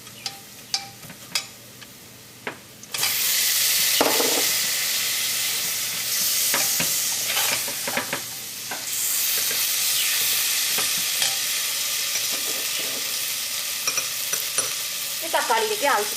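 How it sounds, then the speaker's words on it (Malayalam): Garam masala mixture cooking with tomatoes in a pan for chicken biryani, stirred steadily: faint scattered clinks at first, then a loud, continuous sizzle with repeated spoon scrapes and taps throughout, no voices. "ഇതെല്ലാം കൂടിയിട്ട് നന്നായിട്ടൊന്ന് മിക്സ് ചെയ്തിട്ട് നമുക്ക് ഇതിലേക്ക് തക്കാളി ചേർക്കാം."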